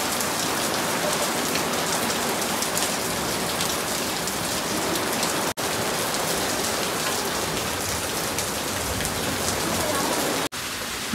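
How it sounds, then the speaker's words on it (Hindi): Heavy rain pours down steadily in a dense, loud, continuous hiss, with two brief dropouts partway through and no voices. "इतनी तेज बारिश आ रही है।"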